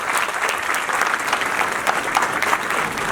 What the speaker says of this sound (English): Please welcome them to the round of applause.